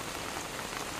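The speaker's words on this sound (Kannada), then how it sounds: "ಆದರೆ ಬೆಳಿಗ್ಗೆ ಮಳೆನೇ ಬಿಡೋದಿಲ್ಲ, ಇನ್ನೂ ಬಿಡ್ತಿಲ್ಲ" Steady rain falls continuously on a morning, a dense even patter with no voices, close and moderately loud throughout.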